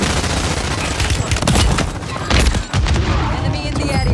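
Heavy, continuous gunfire in the video game Warzone, loud overlapping bursts and booms with barely a pause, close and intense throughout.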